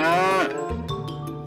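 A toy buffalo lets out an electronic mooing call, a single loud, drawn-out low bellow that trails off into a few clicking sounds.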